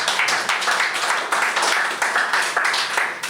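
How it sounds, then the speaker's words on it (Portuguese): A crowd clapping together in dense, steady applause, loud and close, with many sharp hand claps blending into a continuous patter for a few seconds. "Palmas, sim, esquecemos das palmas."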